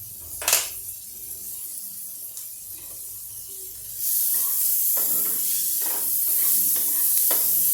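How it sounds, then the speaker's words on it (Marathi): Onion sautéing in butter in a pot for masala pav, with a brief clatter at the start, then a soft sizzle that swells into a steady, louder hiss with occasional stirring scrapes. "आता या बटरमध्ये आपण कांदा घालूया आणि कांद्याला छानपैकी थोडंसं आपण जरा परतून घेऊया"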